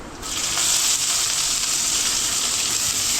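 Onions hit hot oil that already holds browning garlic, setting off a loud, continuous sizzle close by. It starts with a sudden burst and then hisses steadily with no talk.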